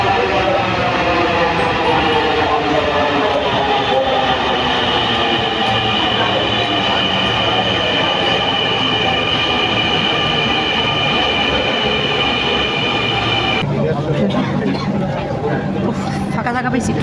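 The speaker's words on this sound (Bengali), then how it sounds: "আমরা যাইতেছি ট্রেনে ওঠার উদ্দেশ্যে" A metro train rolls into an elevated station, a loud, steady rumble of wheels and carriages with squealing tones that change near the end as it slows, while people talk nearby.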